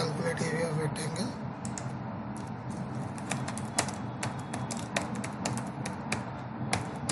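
Rapid, uneven keystrokes on a computer keyboard, close and fairly crisp, tapping in bursts over a steady background hum with no talking.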